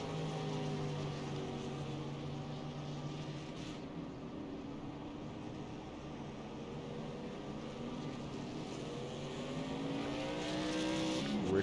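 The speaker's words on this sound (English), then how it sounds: "Richard Young running again out on the track" A race car runs on an oval track during a Saturday night racing event, its engine droning at a distance and swelling as it nears, with no talk over it.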